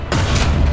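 A single tank gun shot in War Thunder, a sharp close blast followed by a rumbling low tail that lingers under the battle.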